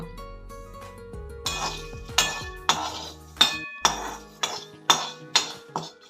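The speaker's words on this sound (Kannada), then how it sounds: "ಈಗ ಒಗ್ಗರಣೆ ರೆಡಿಯಾಗಿದೆ ಈ ಒಗ್ಗರಣೆನ ಈ ರೈಸ್ಗೆ ಇವಾಗ ಆ್ಯಡ್ ಮಾಡಿಬಿಡೋಣ" Metal spoon clinks repeatedly against a pot as tempering is stirred into curd rice, a run of sharp, bright taps in a steady rhythm, close and clear with no talk.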